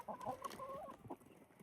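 Fluffy, feathery hens scratching about on a farm cluck in quick, uneven bursts close by, a busy run of chatter that trails off into softer calls with no voices over it.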